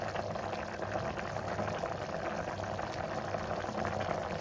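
Avarekalu beans bubble steadily in a pot of water, a continuous dense burbling hiss that stays even and close throughout.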